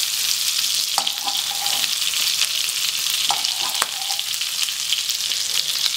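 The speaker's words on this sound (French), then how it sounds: "l'intérêt, c'est d'arroser la viande pendant tout le long de la cuisson" Beef tournedos sizzle loudly in a pan as hot fat is basted over the meat, a steady dense hiss with occasional spoon clinks and scrapes close by, no voices.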